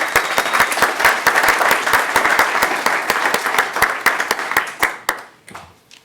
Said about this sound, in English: So a big round of applause for Stanford also.